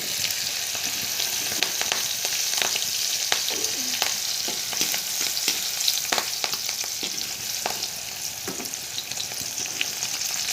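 Garlic, ginger and green chili frying in hot oil while preparing Chinese-style noodles, a steady close sizzle with scattered pops and crackles and occasional stirring, no voices.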